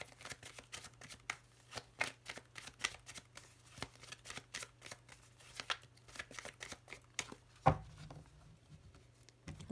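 Tarot cards shuffled by hand in rapid, crisp riffling bursts that patter on and off close by, with a low steady hum beneath and one sharper knock near the end.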